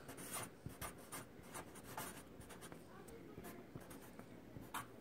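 Marker or chalk writing on a classroom board during a middle school periodic table lesson, with steady scratchy strokes and short squeaks running continuously, fairly close, with no talk over it.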